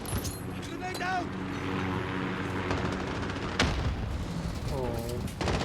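A grenade blows up in the Call of Duty video game with one sharp blast midway, surrounded by dense battlefield noise, scattered gunfire and whistling effects throughout.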